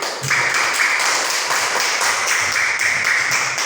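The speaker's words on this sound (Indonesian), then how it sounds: "tepuk tangan untuk Fania" A classroom of pupils claps together for a classmate who answered correctly, loud close rhythmic clapping in a steady beat, likely a patterned cheer, throughout.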